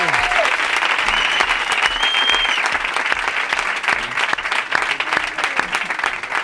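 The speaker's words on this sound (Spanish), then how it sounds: "pues Diego, un aplauso para Diego." A comedy show studio audience breaks into sustained applause, a dense, loud wash of clapping that continues steadily for several seconds with scattered voices and whoops mixed in.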